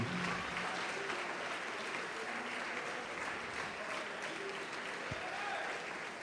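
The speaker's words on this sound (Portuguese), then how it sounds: "Pode aplaudir e glorificar o Senhor." A church congregation applauds steadily at a worship service, a dense, continuous wash of clapping heard from some distance at moderate volume, without pause throughout.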